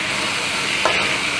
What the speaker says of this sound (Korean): 간마늘 1큰술 남겨놓은 거 같이 넣고 먼저 살짝 볶아줄 거예요.